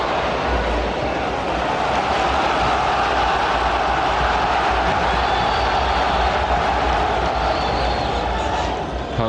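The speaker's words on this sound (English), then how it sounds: "Home crowd getting behind Blackburn now." A home football crowd at a 1993/94 Premier League match cheers Blackburn Rovers against Chelsea, a dense, steady roar filling the stadium throughout, with a commentator speaking over it.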